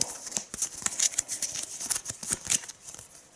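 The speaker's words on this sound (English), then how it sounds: "let's do a little bit of crap shuffle for the dummy player" A deck of cards being shuffled during a Mage Knight board game session gives quick, crisp papery riffling and flicking, dense and close, with no voices.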